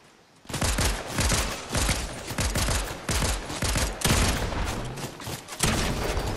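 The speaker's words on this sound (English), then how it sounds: "There's a guy shooting behind us." Rapid, sustained gunfire from Fortnite gameplay, with dense bursts of shots and automatic fire running continuously and loudly for several seconds.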